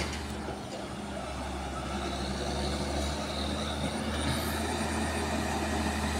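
A long trailer truck passing a bus on the Alas Roban road, heard from inside the bus as a loud, steady engine and road roar that swells slightly as it goes by.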